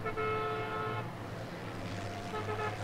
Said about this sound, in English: The sound of the horn